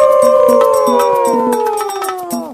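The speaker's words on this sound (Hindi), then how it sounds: "फिर उन लोमड़ियों के झुंड ने नए राजा का अभिवादन करने के लिए एक साथ आवाज लगाना शुरू किया।" A pack of foxes howling together, several drawn-out, wavering cries that slide slowly downward in pitch, loud and close, with sharp clicky bursts scattered underneath.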